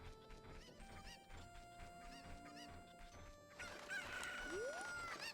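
Cucco chickens from the Ocarina of Time video game cluck amid game music, ending with a louder burst and a quick rising chirp.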